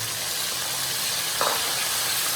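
A steady hiss of garlic, onion, tomato and ginger paste sizzling in a hot pan for palak gosht, continuous and close with a brief louder stir or splash midway.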